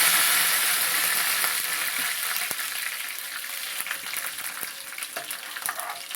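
Curry leaves sizzle and crackle in hot oil in a pan for a potato and carrot fry, with a loud, steady frying hiss and scattered pops that ease off slightly over time.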